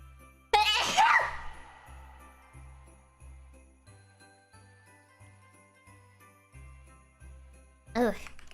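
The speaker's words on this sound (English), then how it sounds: "I think I have to sneeze." A single loud, close sneeze bursts out near the start over steady, stepping electronic background music, followed by a shorter burst of the same kind just before the end.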